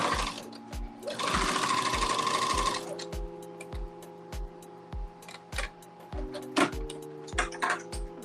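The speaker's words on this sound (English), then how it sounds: "we're gonna put a little hem on our sleeve" A sewing machine hems a garment sleeve, starting with a loud burst of fast continuous stitching, then settling into steady running broken by repeated short mechanical clicks and pauses.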